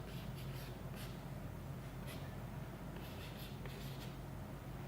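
Quiet scratching of writing on a board during a Class 12 physics lesson, soft and steady over a low background hum, with a few faint scraping strokes and no talking.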